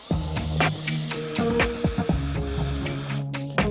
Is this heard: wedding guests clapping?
no